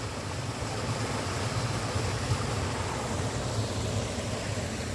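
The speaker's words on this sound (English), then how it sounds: "There's a nice little waterfall here." Steady broadband rush of a small waterfall, close and continuous, with a low rumbling undertone and no voices.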